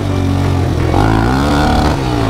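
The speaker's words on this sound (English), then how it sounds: "The way you burn the oil out is just hit the rev limiter and stay in it." An ATV or dirt bike engine held hard against its rev limiter to burn off leftover oil, a loud, continuous, buzzing roar with rapid stuttering pulses throughout.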